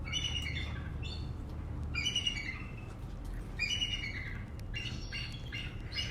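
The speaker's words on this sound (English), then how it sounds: "So that is what a bald eagle sounds like." A bald eagle at a zoo gives repeated high, squawking chirps in short bursts, with a second eagle joining in, over a steady low background rumble.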